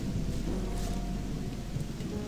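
Heavy rain in the video game Gothic makes a dense, unbroken roar with a deep underlying rumble, steady throughout with no voices.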